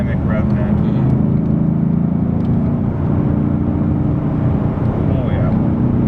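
A 2016 Ford Mustang GT Performance Pack V8 heard from inside the cabin, a steady loud engine drone and rumble that stays close and continuous with little change in pitch.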